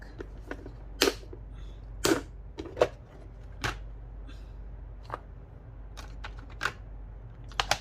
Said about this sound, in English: So let's play around with some stamping.